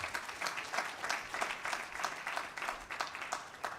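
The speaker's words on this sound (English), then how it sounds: "come on, please, a round of applause." An audience applauds a speaker at a career talk, a fairly quiet, steady patter of many hands clapping at a moderate distance with no talk over it.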